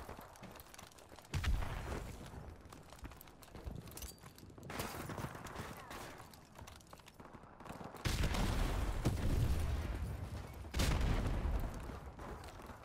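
Gunfire in Modern Warfare Remastered, including pistol and mini Uzi shots, comes as loud bursts of shots with quieter stretches between them.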